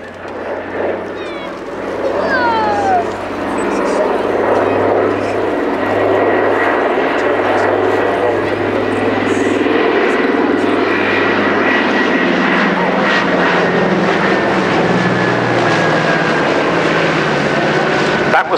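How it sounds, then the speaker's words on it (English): A Catalina flying boat, a US Army Air Force rescue OA-10A variant, flies past at the Shoreham airshow, its loud piston propeller engines droning steadily and close while a commentator talks over the sound. "as the aircraft flew past on that pass"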